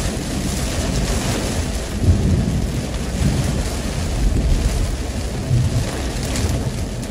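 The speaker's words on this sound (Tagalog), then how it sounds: "Nakakatakot yung kidlat." Steady heavy rain with low rumbling thunder rolling underneath, a dense continuous wash of sound with no voices.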